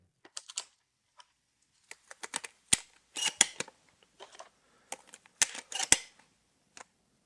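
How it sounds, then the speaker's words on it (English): Shotgun shells are pushed one by one into the tube magazine of a Benelli M3, producing sharp, close metallic clicks and snaps in irregular bursts separated by silence. "You put the shell in the tube and push it in."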